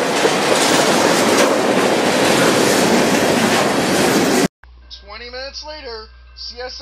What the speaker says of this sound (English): CSX Intermodal LL3111 headed south toward Jacksonville with a CSX Eagles 40 DC in YN3 and CSX AC 44 CW in YN2 for power.